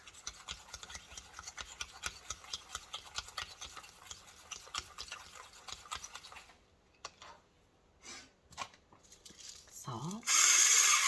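Eggs are whisked with a splash of milk for scrambled eggs, giving a quick run of light scraping taps against a bowl, then some pauses and a few separate clinks before a louder burst at the end.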